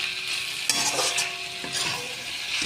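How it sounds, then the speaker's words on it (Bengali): Ivy gourd (kundri) stir-fries in a pan in its own released water, with no oil added: a soft sizzle broken by several scraping stirs of a spatula, close and unvoiced. "এইভাবেই মানে ভাজতে থাকি"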